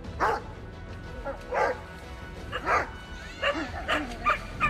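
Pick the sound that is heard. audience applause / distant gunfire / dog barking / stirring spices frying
dog barking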